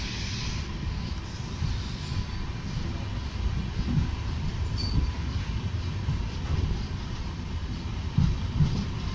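A brand new LHB rake passenger train at Dewas station, a steady low rumble of rolling wagons with faint wheel squeals, heard close and continuous without talk.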